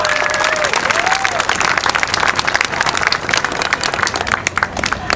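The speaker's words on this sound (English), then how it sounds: "How about a big round of applause for Thor and Officer Gannon today?" Audience applause at an outdoor police K9 unit demonstration, dense sustained clapping from a crowd throughout, with a few faint whistles near the start.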